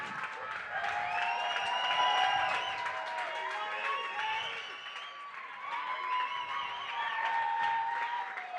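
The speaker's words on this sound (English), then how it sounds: "one more round of applause for our main event competitors tonight" An arena crowd at a 125 lb kickboxing title main event applauds and cheers the competitors, with loud continuous clapping mixed with shouts and whistles throughout.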